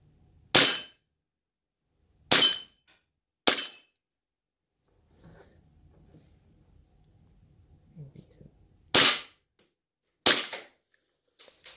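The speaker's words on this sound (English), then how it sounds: "Now I'm just going to shoot the gun." Airsoft Glock pistol fired five times in sharp, loud cracks, three spaced shots then a quiet pause with faint handling noise before two more shots.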